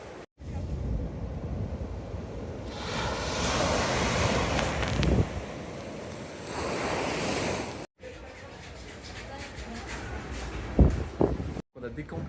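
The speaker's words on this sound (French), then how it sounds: "Là on arrive bam sur la plage, des grosses vagues partout." Big ocean waves crash and wash onto a beach on Siargao Island in the Philippines, a rolling surf roar with gusts of wind on the microphone and brief breaks in the sound.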